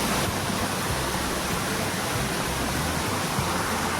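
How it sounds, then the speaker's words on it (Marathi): Jungle waterfall roaring steadily, a dense continuous rush of falling water heard close and loud throughout, with no voices. "हा जंगलाचा धबधबा आहे"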